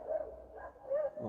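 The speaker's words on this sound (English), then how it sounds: "I'm sorry for the barking of the dog." A dog barks a few times in a short, muffled burst, somewhat distant and fairly faint, with no talking over it.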